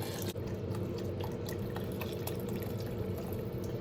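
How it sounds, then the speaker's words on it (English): Beef broth being poured into a soup pot with meatballs and cabbage, a steady close liquid gush and splash running throughout without pause. "so now we're going to go in with our beef broth"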